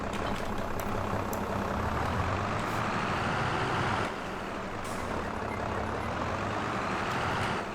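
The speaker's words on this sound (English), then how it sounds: "It's a nice nimble tractor for this sort of job." A tractor engine in the Farming Simulator 22 video game runs steadily with a loud, continuous rumbling drone that dips slightly partway through, with no talk over it.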